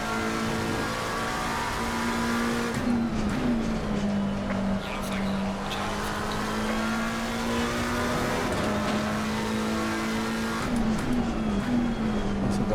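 Race car lapping Brands Hatch in Assetto Corsa Competizione, a steady engine drone that rises and falls through gear changes and corners, continuous and fairly loud with talk over it.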